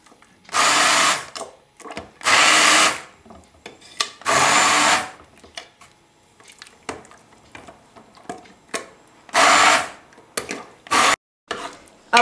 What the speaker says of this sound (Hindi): अब देखिए ये कैसे ग्राइंड हुआ है, कोर्सली ग्राउंड है।